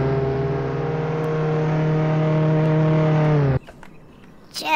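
A car engine in the Roblox game Jailbreak holds a steady, loud droning hum for a few seconds, then cuts off abruptly, leaving quieter background game sounds and a brief whoosh at the end.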